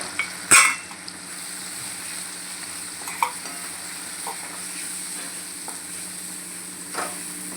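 Spices frying with ginger garlic paste in a pan for eggplant curry: a soft steady sizzle with a sharp clink of a spoon against the pan at the start and a few lighter stirring taps.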